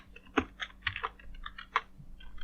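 Quick bursts of typing on a computer keyboard, a few close clattering keystrokes spread unevenly over a couple of seconds, fairly quiet, with no one talking.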